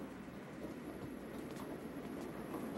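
Steady train rumble from a fast cartoon train running above the ground, a continuous noisy roar lasting throughout with no clear clacking rhythm and no talk.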